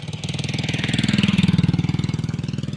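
Yamaha RS100 two-stroke motorcycle fitted with a tune pipe, running close by with a loud, rapid pulsing engine note that swells slightly as it revs then settles, heard alone.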